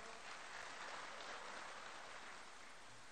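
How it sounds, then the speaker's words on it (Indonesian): Audience applause fills the hall at a Golkar party national congress, a dense, even wash of clapping that stays constant and fairly faint for a few seconds. "Ya, kita aplaus."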